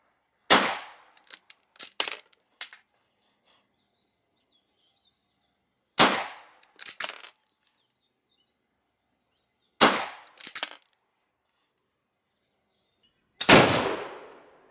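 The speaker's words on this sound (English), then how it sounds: "Now some of this ammo's a bit click bang because it's old primers" Four rifle shots from a Lee-Enfield No.4 firing old .303 ammunition with aged primers, each a sharp loud crack followed by bolt-cycling clatter, spaced several seconds apart outdoors, the last shot booming loudest with a longer tail.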